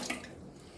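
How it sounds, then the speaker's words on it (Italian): Water poured into the bowl of a planetary stand mixer for bread dough, a short close splash and trickle with no talk. "Mettiamo l'acqua all'interno della nostra planetaria"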